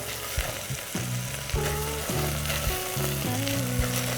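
Aromatics and ground pepper sauté in a pan with a continuous close sizzle, and scraping, clinking utensil strokes come and go over it; no voices.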